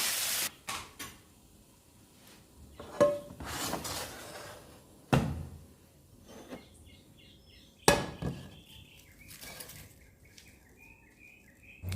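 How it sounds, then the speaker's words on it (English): Lobster pieces going into a saucepan for a Jamaican-style garlic butter dish, heard as a few sharp knocks and clunks spread through a quiet kitchen with faint chirps in the background. "I'm moving right over to the lobster to add it to your saucepan."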